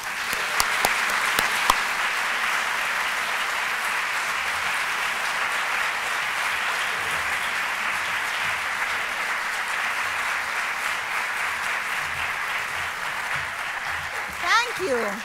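A hall audience claps steadily in sustained applause to welcome author Isabel Allende, a dense, even wash of hands lasting many seconds, with a few sharp claps at the start and a voice speaking at the very end.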